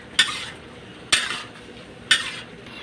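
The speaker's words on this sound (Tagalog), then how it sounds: "Kunti lang paghalo. Haluin natin guys" A spoon scraping and clanking against a cooking pot while food is stirred, three distinct metallic strokes about a second apart, close and fairly loud, with no talking.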